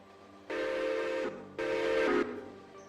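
An arriving passenger train in the video game Railroader sounds its whistle with two long, clear, tonal blasts separated by a short gap, loud and alone.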